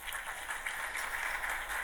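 Steady applause from an audience honoring the Sergeant Major of the Army, a dense, even wash of many hands clapping at moderate volume, heard alone without talk.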